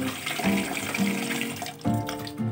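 Glutinous rice is washed by hand in water in a kitchen, giving a steady sloshing, running-water wash with a brief lull and then renewed splashing, fairly close and moderately loud.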